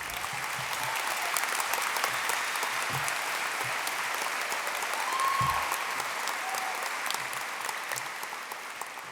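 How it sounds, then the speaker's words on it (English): Sustained applause from a large crowd at a 2022 high school graduation ceremony honoring the graduating class, a steady dense wash of clapping lasting the whole stretch, swelling slightly midway before easing off. "Give yourselves a round of applause,"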